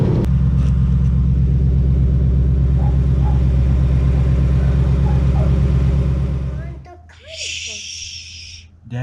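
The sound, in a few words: 2019 Mustang GT engine started and running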